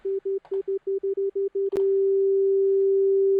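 A plain sine wave from a three-oscillator synth with no effects, pulsing in short even beeps before settling into one steady sustained tone, clean and alone.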